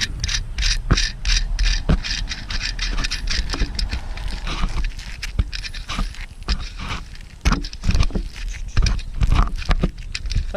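A ratchet wrench clicks in rapid, uneven bursts while bolts are removed on a Jeep during a lift install, with metallic clanks and tool handling close by.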